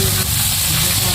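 Crispy squid sizzles loudly in hot cooking oil, a dense, steady frying hiss close by with a low rumble underneath.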